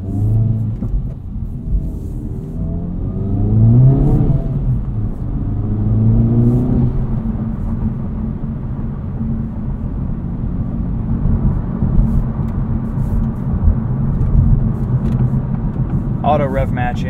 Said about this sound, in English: it's just a really nice sounding exhaust